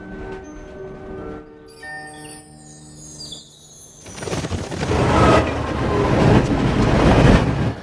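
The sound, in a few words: train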